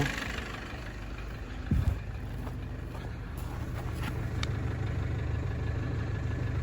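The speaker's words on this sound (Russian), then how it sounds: "Что ж, мотор работает." A car with a 4D20 engine idles steadily at low volume outdoors, a constant low rumble with a brief clunk partway through, smoking as it burns oil out of the catalytic converter.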